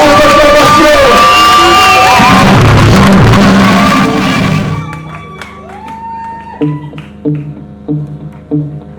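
At a live slam poetry festival, an audience cheers, whoops and shouts loudly in a dense roar for about four seconds, then the crowd fades and scattered voices and sharp knocks follow.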